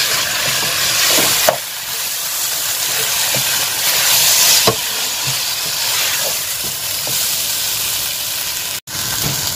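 Washed chicken pieces hiss and sizzle steadily in a hot pan with tomato sauce and soy sauce for a spicy chicken roast, with a few sharp stirring clacks and thumps rising above the constant frying.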